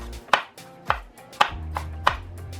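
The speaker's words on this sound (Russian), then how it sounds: "порежу болгарский перец средними кусочками" A knife chopping bell pepper into medium pieces on a board, five distinct sharp taps at uneven intervals, close and clear with no voices.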